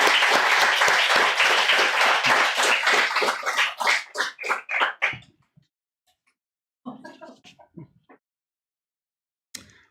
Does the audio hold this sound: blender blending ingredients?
no